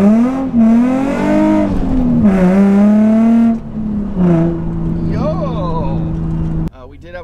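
A Nissan 350Z fitted with subframe bushing collars accelerates hard with a little wheel hop, its engine rising loudly and close through several revving pulls before cutting off abruptly.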